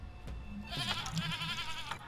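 A goat bleats in the video game Sally Face, a single wavering, nasal bleat rising after a soft knock, fairly quiet against a faint background.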